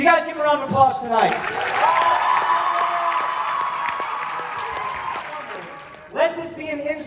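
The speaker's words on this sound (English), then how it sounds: "Counselors, you guys give a round of applause tonight." A crowd cheers and applauds at the 2023 South Texas Bootcamp Rally concert, a loud, sustained wash of clapping and whoops lasting several seconds, with someone speaking just before and after.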